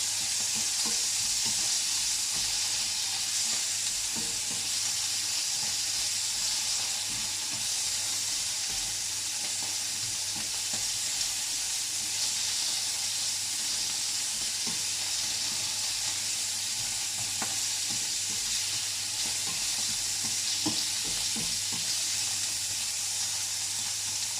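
Mushrooms frying in a pan for a carrot, pepper and mushroom pasta dish, a steady bright sizzle close by with occasional soft stirring scrapes and no talking.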